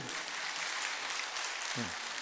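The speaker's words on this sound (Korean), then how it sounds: "박수치려면 확실하게" A church congregation applauds during a Sunday sermon, a steady wash of clapping through the room, with a voice briefly speaking near the end.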